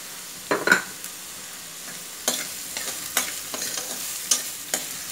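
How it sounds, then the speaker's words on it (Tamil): Onions sauté in a pan with a little salt for white kurma, giving a soft sizzle broken by several sharp stirring scrapes and clacks spread through the clip. "இப்போ வெங்காயம் நல்லா வதங்கணும்"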